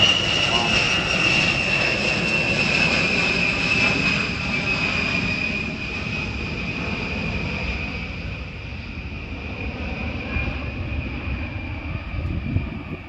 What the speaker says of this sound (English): Fighter jet. Probably a Phantom.